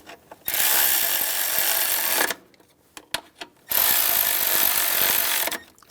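Bolts are snugged down on a 2011-2018 Ram 1500 truck valve cover with a power tool, giving two close, loud buzzing bursts separated by clicks and handling noises.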